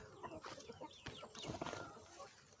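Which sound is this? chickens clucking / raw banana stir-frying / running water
chickens clucking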